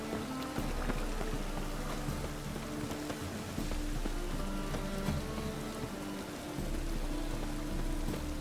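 Steady rain falls in The Witcher 3 video game, a dense hiss of drops on the streets and gutters of a grimy city, constant and fairly close with no voices.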